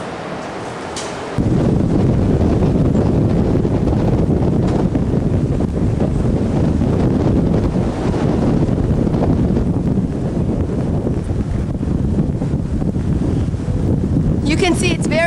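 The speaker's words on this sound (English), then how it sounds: "You can see it's very windy." Strong wind buffets the open deck of the MS Richard With, a steady loud roar with microphone rumble lasting throughout, the surge starting abruptly after a quieter first second.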